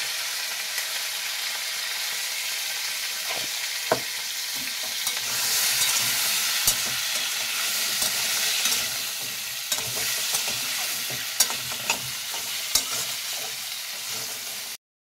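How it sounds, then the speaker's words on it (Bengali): Sundarban crabs sizzle and fry in a kadai while a utensil scrapes and stirs with sharp, irregular clacks, the sizzling swelling louder midway through. "কাঁকড়াগুলো ভাজা হয়ে গেছে, 1 মিনিট মতো কড়াইতে ফেলে নাড়িয়েছি।"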